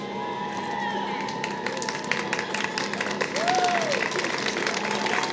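Large crowd at a March for Life rally applauding and cheering steadily throughout, a dense wash of clapping with a brief whistle-like tone partway through.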